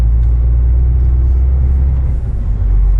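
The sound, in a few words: car driving off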